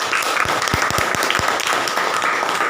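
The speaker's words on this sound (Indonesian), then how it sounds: "Iya, tepuk tangan dong." A class claps for a student during an Indonesian-language lesson: a few sharp, separate claps at first, then a dense, bright burst of applause that carries on to the end.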